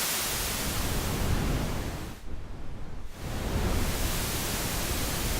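Synthesized colored noise for an electronic music sweep and riser: a steady, full hiss with a brief darker, filtered dip in the middle before the bright wash returns.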